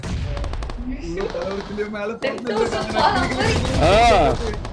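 M249 and AKM gunfire in a battle royale video game, rapid bursts of shots crackling under loud excited voices and overlapping game sounds.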